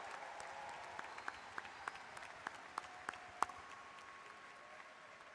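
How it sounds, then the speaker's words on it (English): Applause for graduates at a spring university commencement ceremony, a large distant crowd clapping steadily in a big hall, soft and sustained with a few sharper claps standing out. "How about a big round of applause one last time?"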